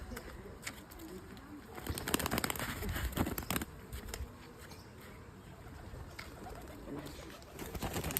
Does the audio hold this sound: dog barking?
no